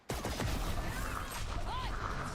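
Rapid bursts of gunfire from a professional Valorant esports match between FNC and PRX fill the clip, loud and dense, with other game effects mixed in throughout.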